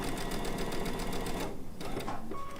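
A sewing machine stitches a short seam while making a chicken-shaped pin cushion, with a steady, close, rapid mechanical whir that pauses briefly midway and then resumes.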